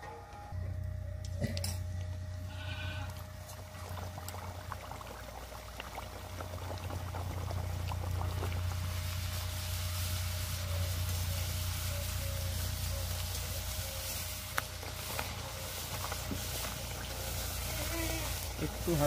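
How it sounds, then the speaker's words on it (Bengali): Spinach puri frying in hot oil, a steady low sizzle and bubbling that runs throughout, fairly quiet, with a few faint clicks and light handling noises. "আমি একটা একটা করে ছেঁকে নেব।"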